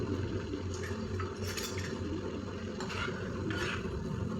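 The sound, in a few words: fish pieces being stir-fried in masala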